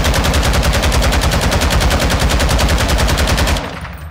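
Rapid automatic fire from a LACHMANN-762 rifle on a Warzone 2 firing range, a loud continuous burst of evenly spaced shots lasting about three and a half seconds before cutting off into a brief fading echo.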